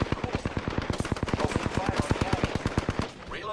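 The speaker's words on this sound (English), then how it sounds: "Opening fire on him!" Rapid automatic weapon fire in the Apex Legends video game: a loud, close burst of evenly spaced shots lasting about three seconds, then a brief lower tail.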